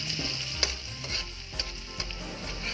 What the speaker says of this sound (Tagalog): Magisa ng bawang.